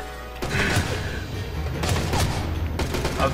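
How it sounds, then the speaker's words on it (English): Dense, chaotic gunfire and crashing impacts in the stealth video game Mark of the Ninja, a loud continuous barrage with sharp bursts throughout. "I'm dodging bullets left and right!"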